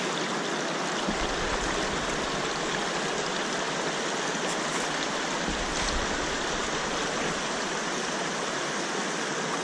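Water rushes steadily over gravel through a gold mining sluice box set in a stream, a continuous close broadband wash with no talk.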